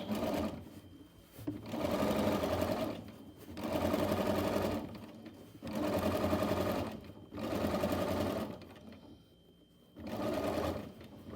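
Sewing machine running in repeated bursts of steady stitching, pausing briefly between runs while top stitching a fly front facing on trousers, close and clear with no talk.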